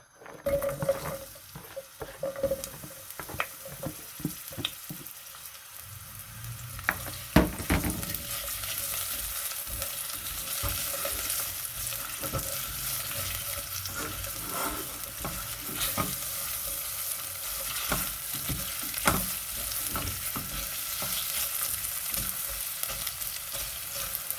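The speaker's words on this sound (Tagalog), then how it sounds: "Tapos igigisa natin ang bawang at sibuyas." Garlic and onion sautéing together in a pan, with black pepper going in, the sizzle building to a steady hiss after a few early clinks and stirring scrapes, with intermittent utensil taps throughout.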